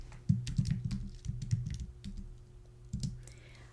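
Typing on a computer keyboard: a quick run of light, irregular key clicks, then a pause and a few more taps, fairly close and quiet over a low steady hum.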